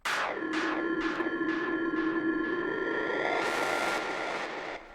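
Deep synthesizer hits repeating in a steady pulse, the oscillator cross-modulating the filter cutoff so each sweeps down, ending in a bright noisy swell.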